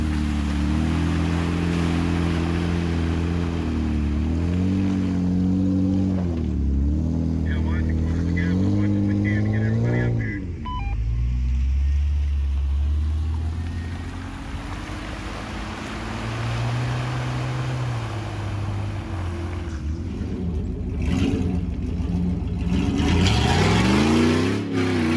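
An off-road rig drives through a mud puddle under gas, its engine rising and falling in pitch as it revs and labors through the ruts, steady and close, with voices talking over it.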